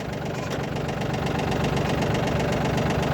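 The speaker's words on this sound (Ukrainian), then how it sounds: "Заводиться з півоберту, не сапунить, робить рівненько." A small Yanmar AF 22 tractor's diesel engine idles steadily nearby, a continuous low chugging rumble with an even knocking rhythm throughout.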